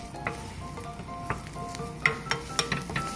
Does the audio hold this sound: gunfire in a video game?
no